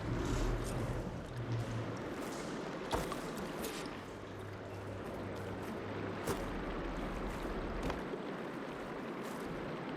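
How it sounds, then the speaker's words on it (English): Running water trickles and flows inside a room in the video game Horizon Forbidden West, a steady low wash with a few soft splashes and no speech. "Aloy, I can hear water in the room again"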